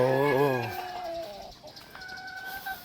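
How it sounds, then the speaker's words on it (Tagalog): Breeder hens (pullets) cackle and cluck in a poultry pen. A crowing call rises and falls at the start, then thinner calls continue at a moderate distance. "makikita nyo dito ang aking mga breeder na babae or pulet"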